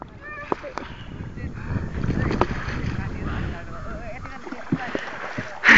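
Oars dip and splash through water as a boat is rowed, with soft irregular strokes under wind noise and faint voices.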